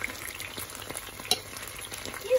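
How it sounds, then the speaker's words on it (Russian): Cabbage rolls frying in a pan after being turned, giving a steady close sizzle and crackle with small pops throughout and no voices. "И с другой стороны пусть жарится."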